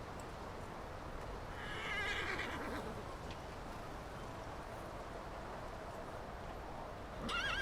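Horses whinny at a riding stable: one full, wavering neigh rises clearly above a steady outdoor background, and a second whinny starts near the end.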